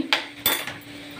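Steel kitchen utensils and plates clink as they are stacked and put away in a home kitchen, with two sharp clatters and a softer knock over quiet background.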